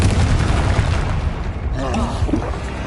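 A loud, deep fiery blast from a Hogwarts Legacy Confringo spell rumbles over the opening seconds, then fades as a voice speaks over the dying noise.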